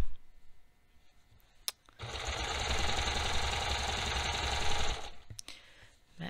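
A serger (overlock sewing machine) stitches along raw fabric edges through an interfaced area, running in a steady rapid mechanical whir for about three seconds with quiet pauses before and after.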